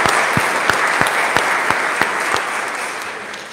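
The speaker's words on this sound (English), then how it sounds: "please give another round of applause for them sharing their gifts today" A church congregation at Sunday worship applauds youth musicians, a dense, steady wash of many hands clapping with a few louder individual claps standing out, fading slightly toward the end.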